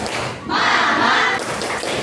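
A class of schoolchildren performs a rhythmic spirit clap in the morning, a short loud burst of unison clapping and shouting voices that rises mid-way and then fades back.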